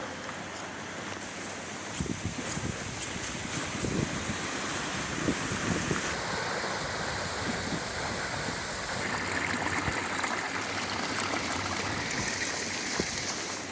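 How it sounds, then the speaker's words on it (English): Steady rushing of a flowing creek near a bridge fills the whole stretch, constant and fairly close, with strong wind buffeting the microphone. "I hear water running in the creek"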